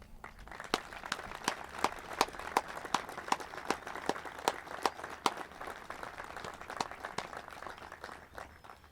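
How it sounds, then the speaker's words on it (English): A small crowd at a baseball field dedication claps in scattered, moderately distant applause, with sharp individual claps standing out in an uneven rhythm over outdoor background noise. "I think we need a round of applause"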